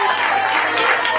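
A church congregation at a prayer-circle festival claps steadily and densely throughout, an even wash of applause with voices mixed in.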